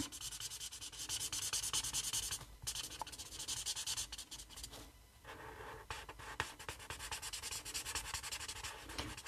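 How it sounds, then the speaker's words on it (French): A felt marker colours across a rubber stamp in a papercraft pumpkin project. It makes close, soft, scratchy rubbing strokes that run almost continuously, with a couple of brief pauses. "Et je viens colorier, on va dire, l'entièreté de mon tampon."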